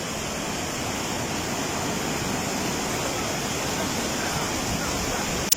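Floodwater of a river in Sichuan, swollen by flash floods, rushes in a constant loud broadband roar with no pauses, ending in a brief click.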